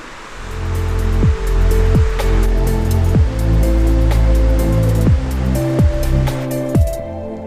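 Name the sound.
waterfall in Iceland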